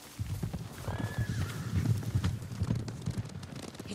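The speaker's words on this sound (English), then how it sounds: "Horses, they're coming for us." Horses in the video game Ghost of Tsushima neigh and whinny over a steady clatter of hooves on hard ground, a continuous galloping rhythm with a high shrill call rising above it.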